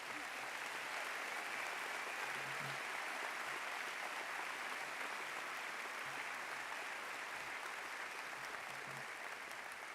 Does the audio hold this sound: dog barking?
no